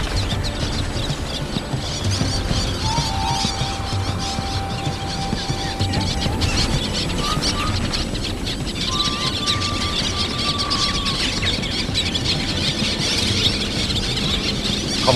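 Little terns attacking black-headed gull chicks at a Songdo colony, a constant chorus of shrill squealing bird calls, near and far, with brief sharper whistles rising over the steady din.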